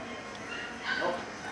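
A puppy gives a short, faint yip inside a store, heard over steady background noise and room ambience.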